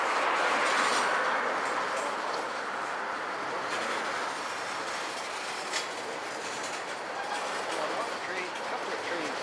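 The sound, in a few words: BNSF and Union Pacific freight train cars passing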